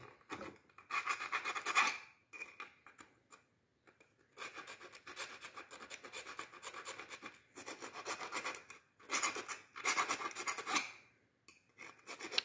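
A plastic dart blaster being filed with a small round file: repeated dry rasping strokes in rhythmic bursts, close and fairly quiet, with short pauses between passes and no talking.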